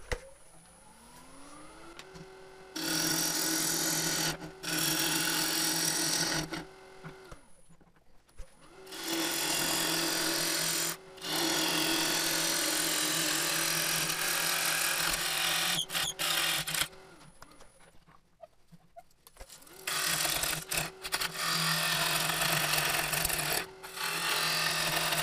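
Wood being roughed and shaped on a lathe for an urn, the bottom flattened before mounting in a chuck: a steady scraping, rasping cut that comes in long loud bursts separated by short pauses, with the motor's hum running underneath.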